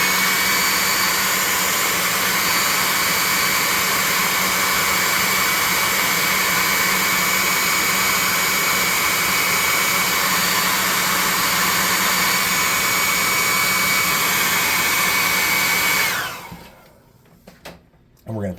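A +2 hot air gun roars steadily at close range for about sixteen seconds while drying paint on homemade fire tokens, then cuts off abruptly, leaving brief faint handling noises.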